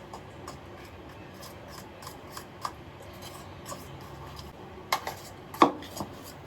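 Dog cake batter stirred by hand in a bowl for a dog's birthday cake, a faint steady scraping with a few sharper clinks against the bowl near the end.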